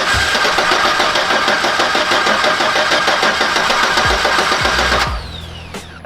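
A truck engine cranks steadily without catching, its starter turning it over in a fast, continuous rhythm for about five seconds with the fuel pump relay pulled, then the cranking cuts off abruptly.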